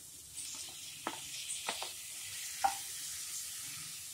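Green chillies and chopped tomatoes sauté in a pan for tomato rice, giving a faint, low sizzle punctuated by a few soft stirring knocks, with no voices.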